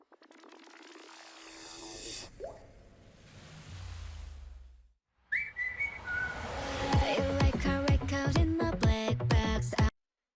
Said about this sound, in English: the choreo matched the whistle in the background